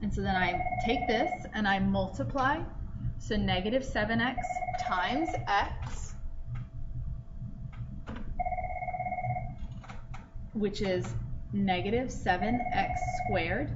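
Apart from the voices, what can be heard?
telephone ringing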